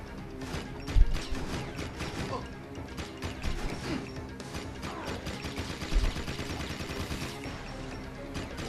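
Rapid turret fire in the video game Jak 3 rattles in bursts of sharp repeated shots over a busy mechanical game soundscape, with a couple of heavier impacts standing out.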